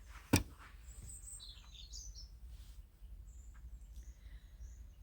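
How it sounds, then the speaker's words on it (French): Birds outdoors give a few faint, high chirps and short warbling calls scattered across a quiet, steady background, with one sharp close tap near the start. "Alors on va avoir les oiseaux qui nous accompagnent,"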